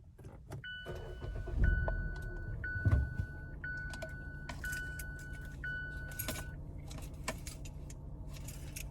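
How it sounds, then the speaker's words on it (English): Keys jangle as a Mazda CX-5 engine cranks over in two low bursts and settles into a quiet idle, heard from inside the cabin, with faint clicks and mechanical ticks around it. "back in our Mazda CX-5. Now we're gonna go ahead and crank it up"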